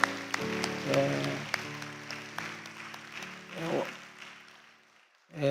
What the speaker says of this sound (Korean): 우리 좌우로 환영하고 박수 한번 쳐주겠습니다